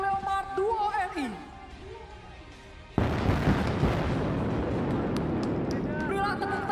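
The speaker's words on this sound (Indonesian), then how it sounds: "Inilah dia tembakan dahsyat salvo tank Leopard 2 RI." A salvo from Leopard 2 RI tanks firing their 120 mm cannons erupts as one sudden loud blast. It follows a few seconds of crowd noise and announcer talk and leaves a long, dense rumble and roar behind it.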